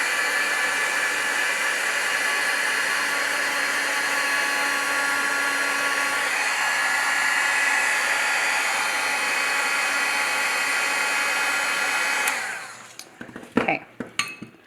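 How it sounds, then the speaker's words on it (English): A heat tool blows steadily while heat-setting stamped embossing ink on a handmade card, a loud, even hairdryer-like whoosh held for about twelve seconds before it switches off, followed by a few brief clicks and handling sounds. "we're going to proceed to heat set both of these, which will make it super quick"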